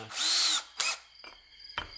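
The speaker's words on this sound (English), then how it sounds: "let's just go ahead and chuck in our drill bit" A drill with a unibit step bit spins up in a loud whining burst, making holes in a pedalboard DC breakout box, followed by a shorter burst and a few brief clicks and taps nearby.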